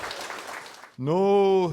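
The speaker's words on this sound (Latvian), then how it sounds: "sagaidām viņu ar vētrainiem aplausiem" Brief applause from the audience at a quiz game about the poet Rainis: about a second of scattered clapping that cuts off abruptly into a loud, sustained tonal note.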